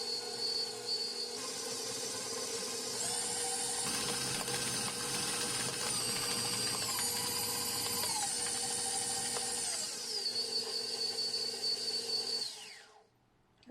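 A stand mixer beats Christmas cookie dough at speed 6, giving a steady, whining motor hum whose pitch shifts up and down midway before it winds down and cuts off at the end, with no talking.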